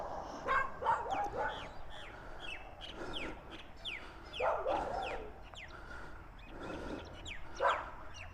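Several dogs bark behind fences along a back street in East Innisfail, their yaps and woofs coming in bursts at middle distance, with birds and fowl calling faintly in the background.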